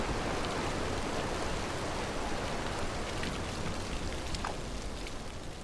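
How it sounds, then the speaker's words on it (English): Torrential rain pouring down on a battlefield, a dense, loud, unbroken hiss of falling water that stays steady throughout. "torrential rain now turned the battlefield into a quagmire"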